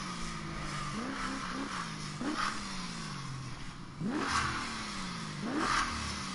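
Car engine revving in a PS4 racing game on a racetrack, rising pitch sweeps repeating every second or two, with a steady mid-level drone underneath and no talking.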